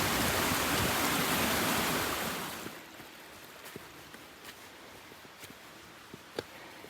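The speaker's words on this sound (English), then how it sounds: "Just did our third little water crossing." Stream water rushes loudly across a trail crossing on the East Royce Trail in the White Mountain National Forest for about two and a half seconds, then fades to a quiet background with a few light ticks and taps.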